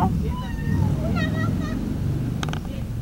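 A human voice imitates a cat, making a run of thin, rising and falling meows one after another over steady outdoor background noise.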